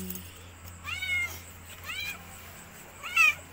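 A cat meows three times in short, rising calls, close and fairly loud, spaced about a second apart over quiet background hiss.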